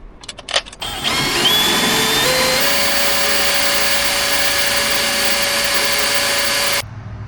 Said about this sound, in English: I want to see how well they drill into the metal.